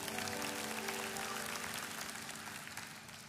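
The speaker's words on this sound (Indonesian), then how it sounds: "kasih tepuk tangan untuk Tuhan" Applause from a church congregation during a worship service, a steady broadband wash of clapping under sustained music or organ tones, gradually fading toward the end.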